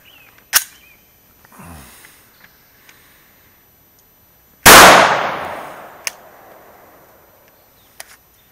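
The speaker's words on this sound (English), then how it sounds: "Bobby is going to place 10 rounds into a 20" Glock 21 pistol fired at a paper target, a few sharp isolated shots spread across the clip with one big ringing blast that decays slowly, the rest quiet between reports.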